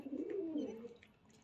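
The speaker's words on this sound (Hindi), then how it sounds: "हमने सारे कबूतर देखो घर से बाहर निकाल लिए" Low, throaty pigeon cooing rolls on for about a second, fairly close and clear, then trails off into quiet with faint chirps above.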